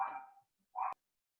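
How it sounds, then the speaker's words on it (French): A dog gives two short barks, the first longer and trailing off and the second brief and sharp, heard faintly from a distance over an otherwise silent call. "On entend le chien de Mélanie."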